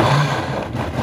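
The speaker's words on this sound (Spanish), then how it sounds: "Aquí vamos a poner a licuar" A blender whirs continuously and loudly at close range, grinding garlic and onion with a little water for pozole.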